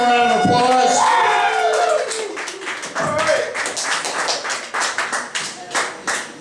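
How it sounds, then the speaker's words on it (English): Crowd clapping and cheering breaks out after a voice, a dense patter of hands with shouts mixed in, loud and close, at a live show. "Give him a round of applause."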